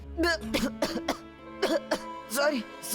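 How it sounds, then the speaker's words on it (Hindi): Repeated close coughing: several sharp, rough bursts in quick succession, mixed with throaty, voiced sounds between them. "पता नहीं अचानक खांसी क्यों आने लगी"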